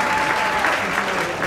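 Wedding guests burst into strong, continuous applause at a reception after a toast to the couple, with dense clapping filling the short moment close and loud.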